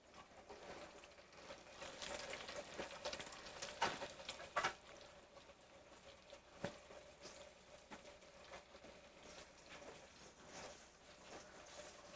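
Food fries steadily in a hot pan on a cooking show, a soft, even sizzle with a few brief crackles and clinks early on, fairly faint throughout.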